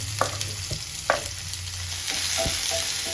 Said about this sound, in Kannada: ಈ ಸ್ಟೇಜಲ್ಲೇ ಇದಕ್ಕೆ ನಾವು ಕರಿಬೇವು ಮತ್ತು ಈರುಳ್ಳಿ ಸೇರಿಸ್ಕೊಳ್ತಾ ಇದ್ದೀವಿ